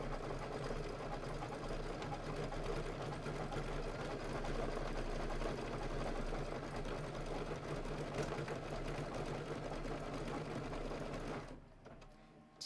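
A sewing machine runs a decorative stitch on a quilted table topper, a steady continuous mechanical hum that holds close and loud for about eleven seconds before stopping abruptly.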